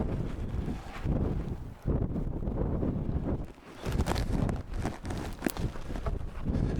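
Strong gusting wind buffets the microphone along Gemini Bridges Road, a steady loud roar with rumbling low-end bursts, while footsteps crunch beneath it and no one speaks.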